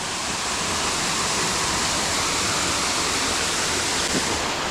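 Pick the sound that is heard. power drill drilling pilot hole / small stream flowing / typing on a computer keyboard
small stream flowing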